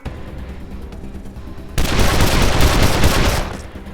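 Gunfire from the video game Wasteland 2 bursts in as a dense, loud volley of rapid shots aimed at an enemy, following a quieter stretch of low rumble and lasting about two seconds before easing off.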